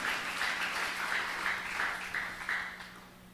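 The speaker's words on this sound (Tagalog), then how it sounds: "Malakas ng palakpak para sa mahal Panginoon." A church congregation applauds at a moderate distance, with a steady patter of many hands and a low hum underneath, rising and falling in waves for a few seconds.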